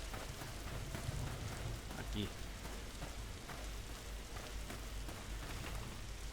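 Steady rain in the video game Stay Out, a dense, even hiss that runs through the whole stretch, with a single brief word spoken early on.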